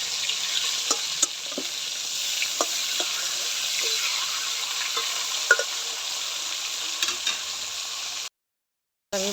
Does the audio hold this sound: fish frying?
yes